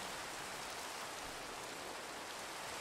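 Rain falling in Minecraft, a soft, even hiss of broadband noise that stays faint and constant throughout, with no talking.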